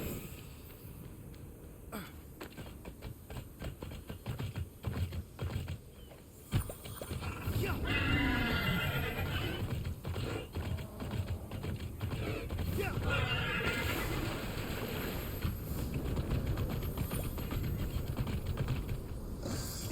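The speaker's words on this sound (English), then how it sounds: "I just need to get these Chroma horses into this pen over here." Mythical Chroma horses in the video game Immortals Fenyx Rising, with whinnies, hoof clip-clops and creaking mechanisms amid busy, continuous game sound.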